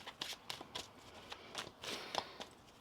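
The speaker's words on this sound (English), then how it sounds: "One more shuffle here." A deck of tarot cards shuffled by hand up close, soft irregular papery slaps and swishes in quick bursts at low volume with no talking.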